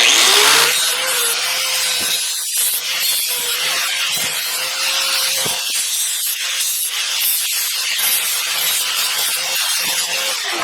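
A flat grinder bevels the end of a metal slingshot frame so a rubber hose can fit, giving a steady, loud abrasive whine and grinding rasp that runs close up for the whole stretch, with brief dips as the tool shifts against the metal.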